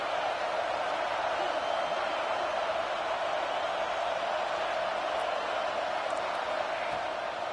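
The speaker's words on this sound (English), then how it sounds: "The Buckeye crowd alive on third down." Stadium crowd noise at an Ohio State Buckeyes game in the NCAA college football video game, a steady broad roar holding at even loudness throughout.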